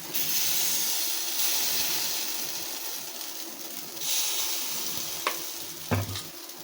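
Sorghum paniyaram batter sizzles steadily in a kuzhi paniyaram pan over a low flame, a close, continuous frying hiss with a couple of sharp clinks near the end.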